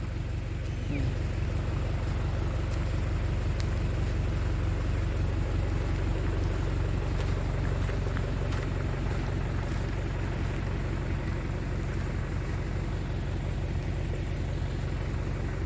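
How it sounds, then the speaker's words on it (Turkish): Cars and engine traffic rumble steadily at a seaside picnic park by a beach, a continuous low drone of vehicles arriving with faint voices in the background. "Arabalar hala geliyor arkadaşlar şu anda."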